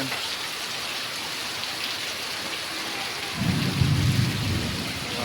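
A deep rumble of thunder rolls in partway through, loud and close, over a steady hiss of heavy rain during a lightning storm in Ahmedabad.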